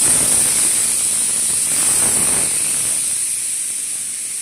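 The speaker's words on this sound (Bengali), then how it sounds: "মাছ ভাজা হচ্ছে" Fish frying in hot oil in a home kitchen, a loud, steady close sizzle and hiss that runs throughout and fades slightly toward the end, with no voices.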